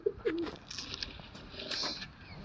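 Several competition pigeons kept with full, uncut wings coo softly in a loft, a few rounded calls repeating over faint background noise.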